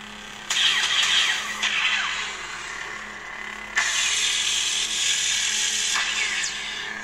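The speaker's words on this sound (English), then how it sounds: "Now this is the ignition font from Blue Force Company, DFC." Blue Force Company lightsaber ignition sound font on a prototype saber plays as two loud bursts of hissing, crackling hum, each flaring up sharply then settling into a buzzing drone, with no talking.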